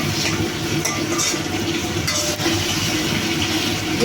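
Ginger, mustard seeds and cumin hit hot oil in a pan where a fish head is cooking, giving a steady loud sizzle and crackle throughout, with light stirring scrapes and no talk.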